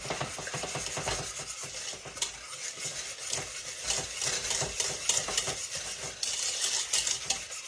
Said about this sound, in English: whisk it with that chocolate and the butter after it's kind of cooled a little bit